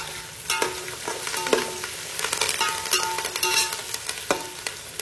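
Mixed vegetables with mint and curry leaves frying in oil produce a loud, busy sizzle with popping spatters and repeated scraping stirs from a spatula, close up and without any talking.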